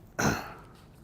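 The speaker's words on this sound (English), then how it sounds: "I was coughing." A single short, harsh cough or throat-clear bursts out in a courtroom, then fades into quiet room tone.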